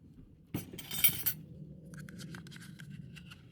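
Korean hot sauce, ketchup and honey mixed in a bowl: a sharp clatter of a spoon against the dish, then light, quiet ticking and scraping as the stirring goes on.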